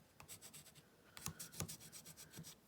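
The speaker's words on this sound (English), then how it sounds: "use my bone folder and just rub the glue in there gently" Bone folder rubbing glue inside a paper gift box, giving soft, rhythmic scraping strokes close up in a quiet room with no talking.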